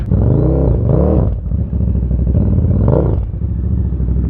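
A small Kawasaki motorcycle's engine runs loud and close, revving up and down in a few rising and falling surges over a rough, throaty idle.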